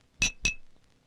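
Two drinking glasses clink together twice in quick succession during a toast, making bright, close, ringing taps in an otherwise quiet room.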